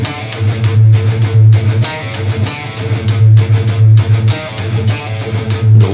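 Distorted electric guitar plays the restart of a riff. Loud, steady chugging notes are punctuated by sharp picked accents, heard alone and up close.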